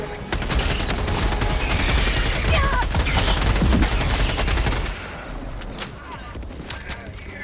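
Dense, rapid gunfire against bugs in Helldivers 2, a loud sustained barrage of overlapping shots and blasts that thins out into scattered shots and chatter of the fight.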